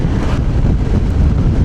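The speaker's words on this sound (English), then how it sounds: "it is very windy" Strong wind buffeting an exposed, bleak hilltop spot, a loud continuous low rumble of gusts across the microphone with no talk.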